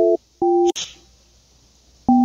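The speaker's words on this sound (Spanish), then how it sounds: "Estamos ahí ya empezando a marcar el celular." A mobile phone being dialled from a radio studio line: two steady electronic tone bursts separated by a short pause and a brief crackle, then a third tone beginning near the end, clear and fairly loud.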